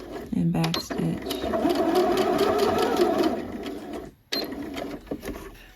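A sewing machine runs a steady mechanical whir while back stitching a seam on joggers, with a brief start, a pause near the end, then a short restart, close and loud.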